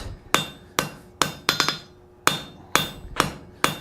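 Hammer blows dressing the faces of a hand-forged cold chisel, about nine sharp ringing strikes in an uneven rhythm, some in quick pairs and triples, loud and close with short decays between.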